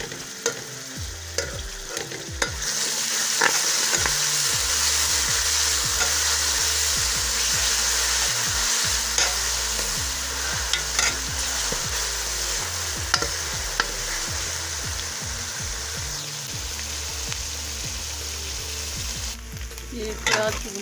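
Finely chopped green chillies and onions fry in a pan with a loud, continuous sizzle, and a spatula repeatedly stirs and scrapes the metal up close throughout.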